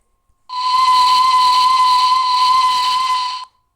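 A Flying Scotsman British steam locomotive with corridor tender in Train and Railyard Simulator sounds one long, loud, steady steam whistle for about three seconds, hissing throughout, then cutting off.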